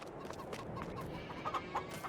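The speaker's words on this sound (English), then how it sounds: "Chickens still laying eggs." Chickens cluck softly in Farming Simulator 22, with a few brief scattered clucks over quiet ambient farm noise.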